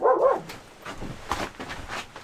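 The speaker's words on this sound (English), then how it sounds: "so she started barking" A dog barks outside near a shed, one loud bark at the start followed by several weaker, muffled yips and bark-like bursts at uneven intervals.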